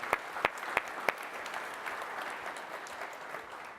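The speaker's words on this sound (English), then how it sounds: "I really want to just give everyone a round of applause" Audience applause at a Customer Success conference event with about 140 attendees, opening with a few loud distinct claps before settling into a steady, dense wash of clapping from a moderately sized crowd, with no one speaking.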